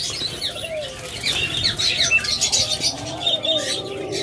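Caged pet birds such as diamond doves flutter and chirp nearby, bursts of wing flapping mixed with thin high chirps and a faint coo, lively and irregular with no speech.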